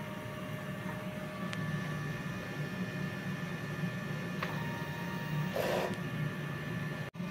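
A DTF printer runs a head cleaning cycle, giving a steady mechanical whir and hum with a faint brief tone and a soft burst of pump or wiper noise near the end, with no voices.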